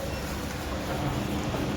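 A train at Ambernath station in India gives a steady, loud rumble throughout, with continuous low mechanical noise and no distinct horn or speech.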